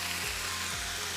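Beef browning in a frying pan, seasoned with salt and pepper, giving a short, even sizzle under background music.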